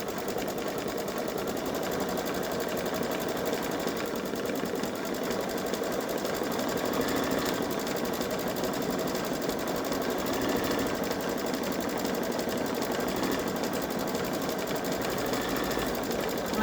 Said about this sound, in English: It'll do a satin stitch around this and all three hearts, and then it should be done.